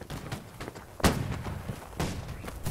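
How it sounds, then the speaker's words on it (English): Cannons fire in the Holdfast multiplayer battle game, two booming blasts about a second apart over steady battlefield background noise, fairly distant and moderate in level. "Cannons have fired. Yeah, both of them are fired."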